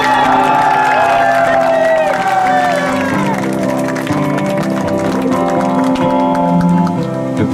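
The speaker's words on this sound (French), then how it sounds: "Je vous demande de leur faire une ovation, s'il vous plaît." A rally crowd in Toulon gives a sustained ovation, loud continuous cheering, whoops and applause from many people filling the space throughout.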